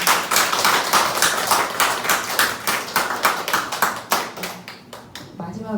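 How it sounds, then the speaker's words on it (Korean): Audience applause at a live talk event, a dense burst of clapping that starts loud and gradually thins out to a few scattered claps near the end. "네, 큰 박수 부탁드립니다."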